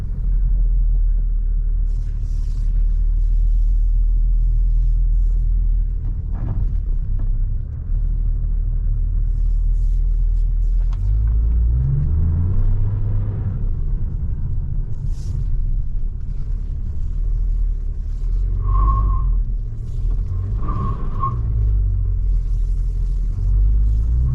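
A 2024 Proton X90 SUV with a dual-clutch transmission takes a tight right turn, heard from inside as a loud, steady low road rumble with engine drone and a couple of brief higher tones.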